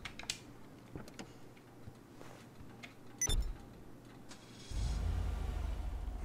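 A Pfister Comet SR sports car in GTA sits nearly silent with a few faint ticks and a brief click, then its engine settles into a smooth, low, steady hum that carries quietly to the end.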